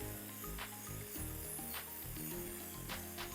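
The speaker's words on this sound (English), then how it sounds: "spray just a little bit of dry shampoo or a little bit of texture spray" Short hissing bursts of an aerosol dry shampoo spray, three quick puffs over a low background hum.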